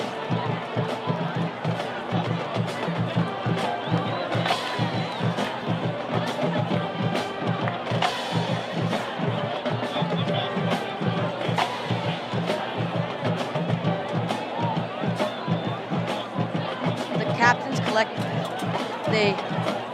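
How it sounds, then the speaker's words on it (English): High school varsity football crowd in a stadium, a dense, continuous roar of cheering and babble running the whole time beneath an announcer's voice. "Listen to the crowd roar as RUHS runs to their sideline."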